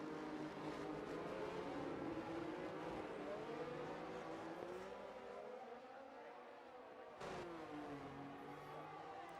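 A Formula 1 car in the F1 2023 racing game at Spa screams at high revs, its engine pitch rising and falling through gear changes as the tyres lose traction, loud and continuous throughout.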